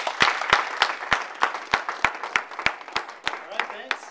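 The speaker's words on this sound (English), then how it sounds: "Thank you for the warm applause here." Audience applause for a speaker at a talk, heard as sharp, evenly spaced claps about three per second over a steady wash of clapping hands and crowd voices.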